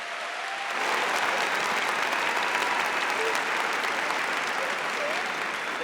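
A church congregation at a Catholic service breaks into applause for a Bible verse, steady dense clapping that swells after a brief quiet start and holds loud and even throughout.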